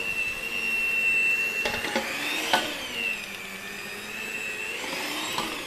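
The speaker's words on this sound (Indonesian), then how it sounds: "Ini ya, mixernya." Electric kitchen mixer whirring steadily while beating potato donut dough, a high motor whine with brief clatters and knocks, close and alone without talk.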